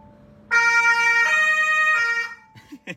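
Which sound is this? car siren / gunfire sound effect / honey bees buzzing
car siren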